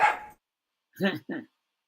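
A dog barks from down a hallway, a short burst of a few barks, then a pause and two more muffled yelps, fairly faint and distant indoors.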